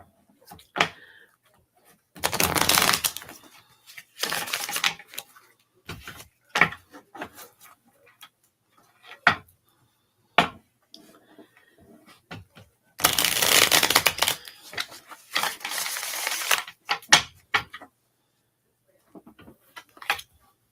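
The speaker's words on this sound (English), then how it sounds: "cards get shuffled here." Tarot cards are shuffled in several separate bursts of crisp riffling and flapping, close and fairly loud, with quiet clicks and pauses between the bursts.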